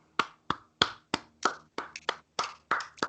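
About ten sharp, evenly spaced hand claps ring out close and dry, a small sparse round of applause with clear gaps between each clap.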